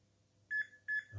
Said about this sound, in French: On attend le petit bip.